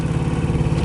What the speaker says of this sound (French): On est toujours au moteur